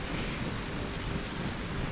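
Hail storm in the video game Outpost, a dense, steady broadband roar like heavy rain pelting a surface, continuous and fairly loud throughout with a low rumbling undertone.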